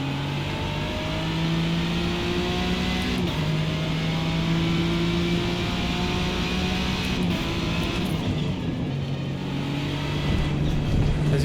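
A race car engine held at full throttle in a sim racing game, a loud continuous whine rising in pitch and dropping back at each gear change, steady and up close with no talk.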